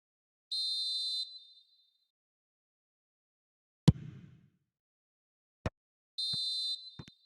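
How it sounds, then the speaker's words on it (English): A referee's whistle in a football video game signals half-time: two short shrill blasts separated by a quiet stretch, with a few sharp isolated clicks between them. "And the whistle goes for half-time."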